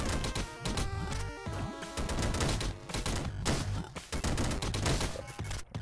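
Shooting in the video game Downwell: dense, rapid volleys of retro-style shots and impacts that continue almost without pause, layered over busy, tonal game sounds.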